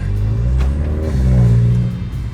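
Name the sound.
small turbo sedan engine purring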